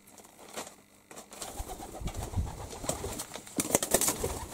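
Pigeon indoors in a home, soft repeated cooing with wing flutters and light movement, close and fairly quiet, no talk.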